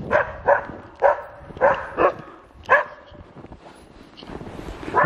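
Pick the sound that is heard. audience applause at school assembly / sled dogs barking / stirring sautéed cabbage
sled dogs barking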